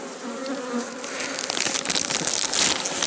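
Honey bees buzz close around an apiary during honey harvest, a dense hum with individual insects swelling louder as they pass near.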